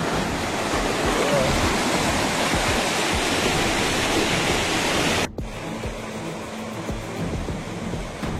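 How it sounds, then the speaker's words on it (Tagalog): Loud, continuous rushing of fast-moving floodwater current in Glan, Sarangani Province, fills the clip, a dense roar that drops abruptly to a softer, steadier flow near the end. "Masyadong malakas ang alon. Masyadong malakas ang current."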